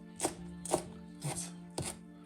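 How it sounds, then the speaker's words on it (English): Chives or garlic chives being chopped with a knife on a board: four distinct, close chops spaced about half a second apart, with no talking. "Chop the chives or chop the garlic chives."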